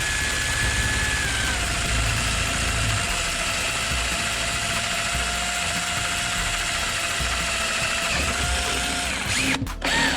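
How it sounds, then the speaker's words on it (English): A power drill whirs steadily and loudly, grinding continuously through mudflap material for several seconds before cutting off abruptly near the end. "now I can just punch right straight through with the drill with absolutely no issues"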